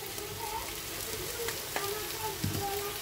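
Prawns cooking in a cumin, ginger and coriander paste with yogurt and turmeric, a soft steady sizzle with occasional light spatula scrapes and taps, fairly quiet throughout.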